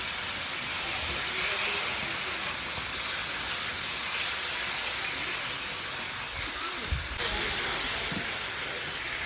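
Water poured into a hot pan of simmering rohu fish curry sets off a steady, loud sizzling hiss that holds for the whole stretch, with a brief dip and a fresh surge near the end.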